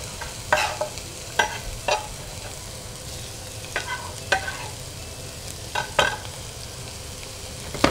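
Finely diced ingredients frying in oil in a casserole, with a steady low sizzle and occasional stirring scrapes at uneven intervals and no talk.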